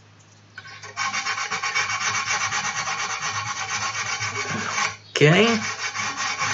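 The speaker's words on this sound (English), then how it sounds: "It's just a piece of sandpaper, you know." Sandpaper rubbed back and forth on wood in quick, even strokes, a loud continuous rasping that stops briefly before one last scrape, with a single short spoken word.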